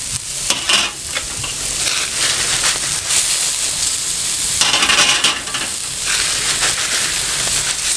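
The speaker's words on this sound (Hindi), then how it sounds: "अब इनके ऊपर ये प्याज डालें। ये देखें, इस तरह इनका साउंड आना चाहिए प्याज का।" Onions hit hot ghee and burst into a loud, crackling sizzle that swells and eases in waves, steady and close, with occasional stirring scrapes and no talking.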